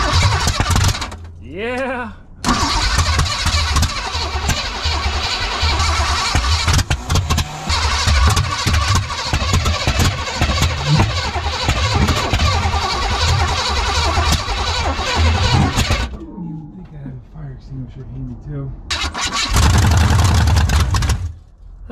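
A rusty AMC Javelin that sat for 25 years cranks over, catches and runs, its engine loud and rough up close, then cuts off, with a brief pause before it roars again; a voice speaks briefly.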